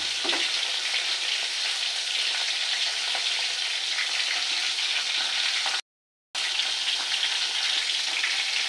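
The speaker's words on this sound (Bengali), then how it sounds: "আমি মাছগুলোকে ভাজি করে নিচ্ছি" Fish frying in a pan gives a steady, close hiss and crackle of hot oil that runs almost unbroken, apart from one brief silent gap.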